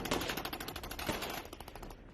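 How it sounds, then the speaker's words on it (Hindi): Rapid bursts of automatic gunfire crackle in a firefight between the Pakistani army and BLA rebels, a quick, uneven string of sharp cracks that gradually softens toward the end. "ये देखिए, आमने सामने की फायरिंग होती हुई दिखाई देती है"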